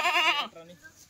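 A Kathiawari goat gives one loud, close, wavering bleat lasting about half a second, followed by quieter fainter bleating in the background.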